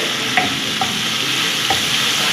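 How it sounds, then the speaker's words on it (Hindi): Marinated Manchurian chicken pieces fry in a pan over a medium flame, giving a steady, dense sizzle with a few soft stirring scrapes, close and continuous with no voices. "1 मिनट हमने इसको फ्राई किया।"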